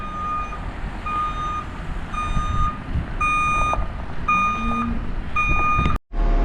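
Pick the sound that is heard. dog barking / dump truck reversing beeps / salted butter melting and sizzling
dump truck reversing beeps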